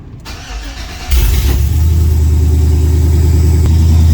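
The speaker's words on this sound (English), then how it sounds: "Actually, that sounds really good for a cold start" Cold start of an LS swapped engine in an OBS truck: a brief starter crank, then the engine catches with a loud burst and settles into a steady, deep idle rumble close by.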